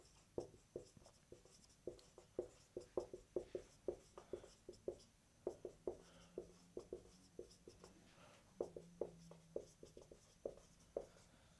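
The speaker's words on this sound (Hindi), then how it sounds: "तो अपन उसको लिख लेते हैं।" Pen writing notes by hand on paper, a close, quiet series of rhythmic scratchy strokes with brief pauses between them, and no talking.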